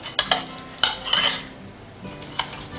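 Metal server scraping and clinking against a pie pan while a slice of pecan pie is cut and lifted out, with a few sharp taps over a soft, sticky scraping; close and moderately loud, no talking.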